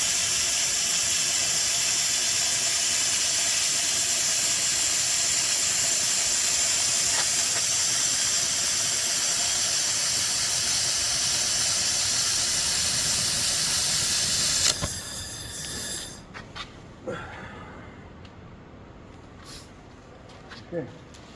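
A laser welding HDPE plastic blows through the material with a loud, steady hiss for about fifteen seconds. The hiss then cuts out, leaving quieter clatter and people talking.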